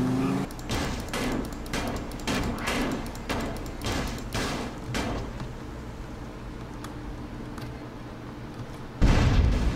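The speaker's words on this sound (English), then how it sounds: "my car is about to explode" In GTA San Andreas, a car burns with a rumbling, crackling roar, repeated heavy thumps and bursts, then a sudden loud boom near the end as it explodes.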